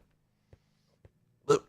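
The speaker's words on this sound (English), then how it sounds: "Oh, hiccups." A single sharp hiccup near the end, preceded by two faint short clicks in an otherwise quiet room.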